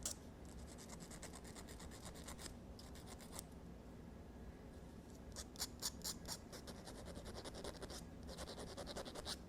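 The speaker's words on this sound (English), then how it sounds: "with my needle file, just trim that up a little bit and refine the edges" A needle file rasps along the edges of a piece of copper jewelry in quick, close, repeated scraping strokes, pausing briefly between short bursts.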